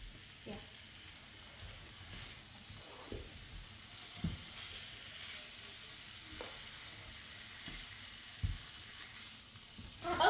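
Quesadilla fillings sizzle steadily in a hot pan with a constant crackling hiss, and occasional soft knocks and scrapes of stirring are heard throughout.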